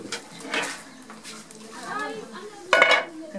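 A metal steamer pot is lifted off a cooking pot in The Gambia, the steamer having been sealed around its sides with an old cloth; clanks and scrapes of metal on metal come up close, with a louder clatter near the end.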